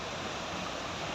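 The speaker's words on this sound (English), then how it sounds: "I don't know if you can hear the sound of the waterfall." Kiangù Falls, a waterfall in Kirinyaga, pours steadily in the distance as a soft, continuous broadband rush with no voices over it.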